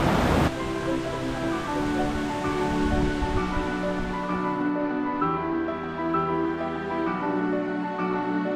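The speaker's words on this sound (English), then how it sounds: "We are so close to the waterfall right now." A steady, continuous roar of rushing water from a waterfall on Kauai, Hawaii, loud and close, with no talking.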